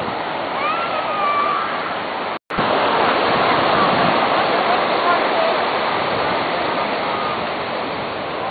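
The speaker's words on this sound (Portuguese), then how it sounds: "A onda vai te pegar." Ocean waves breaking on Copacabana beach make a loud, steady wash of surf that fills the whole stretch, with only a short dropout near the start.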